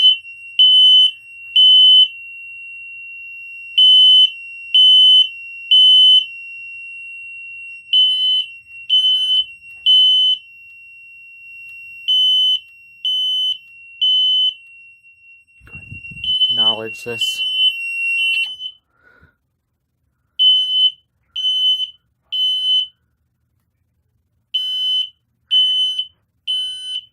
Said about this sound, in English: Now it appears that the code 3 pattern on this alarm is slower than most.